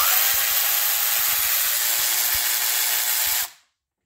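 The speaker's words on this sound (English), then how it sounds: "Unbolt all four coils." A power tool unbolts the ignition coils on a Ford Focus ST engine. It runs with a loud, steady, close whir for about three and a half seconds, then cuts off abruptly into silence.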